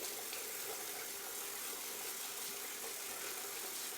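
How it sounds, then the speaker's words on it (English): Tap water runs steadily into a sink before a shave with a Rockwell 6C razor, a faint, even hiss with no voices. "let me put some water on my face"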